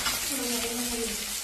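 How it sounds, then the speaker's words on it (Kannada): Onions fry in a pan until they redden, a steady soft sizzle with a faint voice-like tone drifting underneath. "ಹುರಿಬೇಕು"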